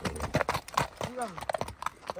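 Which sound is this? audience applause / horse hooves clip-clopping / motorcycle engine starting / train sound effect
horse hooves clip-clopping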